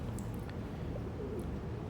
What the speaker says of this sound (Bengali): এগুলো হচ্ছে সুরমা খাকি কবুতর